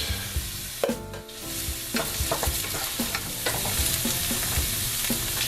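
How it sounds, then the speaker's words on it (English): Tomato paste sizzles in a pot while a spoon scrapes and stirs it in for a potato lentil stew. Close, repeated clattering knocks of the spoon sound over a steady frying hiss, with no voice. "Now I'm going to take about a tablespoon of tomato paste. Put it in there, mix it around."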